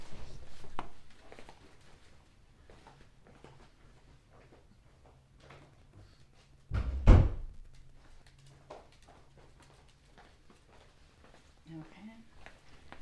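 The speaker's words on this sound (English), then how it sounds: "So I just had to shut the door because it's distracting." A door is shut indoors with a single solid thud midway through, surrounded by quiet rustling, small handling noises and low-level talking.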